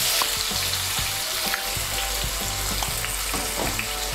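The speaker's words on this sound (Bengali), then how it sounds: "দিয়ে আলুগুলোকে আমি ভালো করে ভেজে নেব।" Three medium potatoes with a little salt and turmeric fry in oil in a kadai, giving a loud, steady, close sizzle with occasional stirring clatter and no speech.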